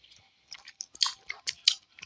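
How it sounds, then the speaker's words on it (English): Crunchy cereal being munched, with a run of close, uneven bites and chews that grow louder and sharper toward the end. "Time to munch on some cereal"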